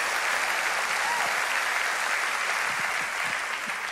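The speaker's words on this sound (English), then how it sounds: "let's give the Lord a hand clap of praise" A congregation at an online Tuesday prayer service gives a loud, sustained round of applause, a thick unbroken patter of hand claps from a crowded room.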